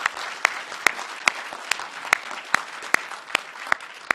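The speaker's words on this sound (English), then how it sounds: "Can we all please give them a big round of applause on what they've achieved?" Applause for the Australian physics olympiad team at an announcement event comes through as about ten slow, evenly spaced, sharp claps against a quiet room background.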